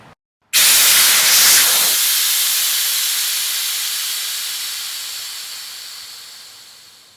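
Air rushing loudly out of an inflatable paddle board's valve, bursting in after a brief silence as a harsh hiss and then slowly fading as the pressure drops, with no talking.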